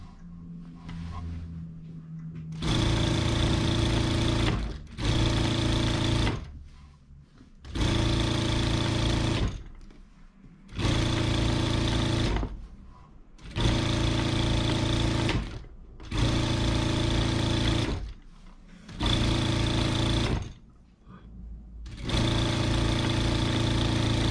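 A sewing machine runs in repeated loud bursts of steady stitching, seven runs with short pauses between, as an apron's edges are sewn and the fabric is turned; a faint voice is heard briefly at the start.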